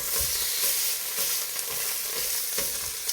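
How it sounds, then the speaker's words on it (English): Beef short ribs sear in a hot pan with a dense, continuous hiss of sizzling fat, steady and fairly close, with a few soft pops and shifts as the meat is pressed down. "Now we are going to sear"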